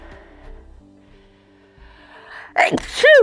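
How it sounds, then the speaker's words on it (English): A single loud, close sneeze bursts out after a quiet stretch, followed by a sharp second exhale. "I'm going to sneeze again."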